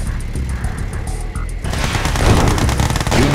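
Rapid gunfire from the video game Red Alert 2 rattles in dense bursts, quieter at first and then louder and fuller for the second half.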